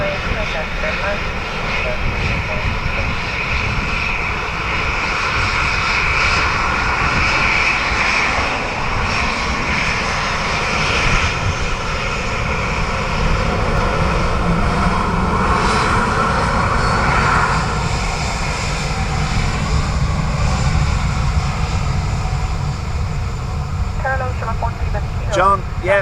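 Airliner on approach to the Dublin Airport runway, heard as a continuous engine roar and whine, steady and moderately loud throughout, with a voice talking over it.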